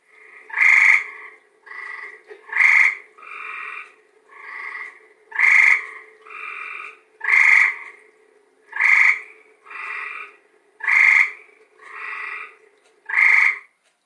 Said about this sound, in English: They have a very distinctive song, which I will play for you.